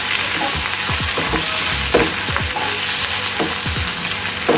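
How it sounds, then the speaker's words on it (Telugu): Curry leaves and green chillies fry hard in hot oil in a pan, a loud steady sizzle with crackling bursts as they hit the oil and get stirred, no voices over it. "కొంచెం కరివేపాకు, ఇలా తరిగి పెట్టుకున్న ఒక 2 పచ్చిమిర్చి ముక్కలు ఇవన్నీ వేసి దూరగా వేయాలి."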